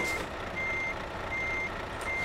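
Steady electronic reversing beeps from a truck backing up in Euro Truck Simulator 2, an even tone repeating over a constant engine and road hum, with no talking.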